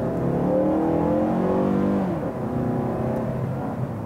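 A 2018 Mazda3 GT hatchback with a 2.5-liter engine accelerates hard in sport mode with traction control off, its engine note rising steadily in pitch for two seconds, dropping at an upshift, then pulling again, heard from inside the car.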